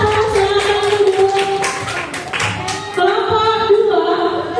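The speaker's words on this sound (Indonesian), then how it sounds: "Tepuk tangan dulu untuk kelompok 1" Classroom applause for a group of fifth-grade students after their presentation, steady clapping from many hands filling the room with a continuous dense patter, with a tonal hum beneath.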